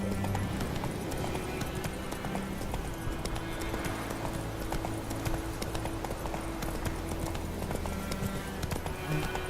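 Horse hooves clop in a steady, rapid galloping rhythm while riding in The Witcher 3, continuous and fairly loud throughout with a faint background score underneath.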